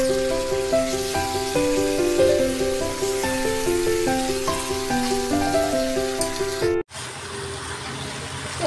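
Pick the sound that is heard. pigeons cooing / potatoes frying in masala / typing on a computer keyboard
potatoes frying in masala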